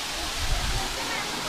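Broad steady wash of falling water from a waterfall at Mazamitla, Mexico, a constant rushing roar filling the short span with no break.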